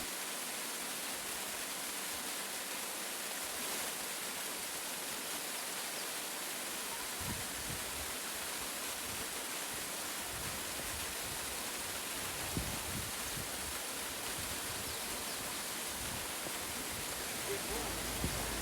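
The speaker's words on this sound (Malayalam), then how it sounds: "നമ്മൾ എത്തിച്ചേർന്ന നമ്മളുടെ ഫൈനൽ ഡെസ്റ്റിനേഷൻ അഥവാ കാത്താഫൂർക്കോ വെള്ളച്ചാട്ടം" Cattafurco waterfall in the Nebrodi mountains of Sicily pours with a steady, dense broadband roar that holds constant throughout, with a few deeper low rumbles surging underneath.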